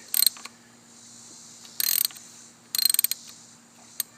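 A wrench working a 19 mm nut on the fuel filter of a Mercedes 350SDL diesel, giving short bursts of rapid ratcheting clicks, three clusters and a final single click, close by over a steady low hum.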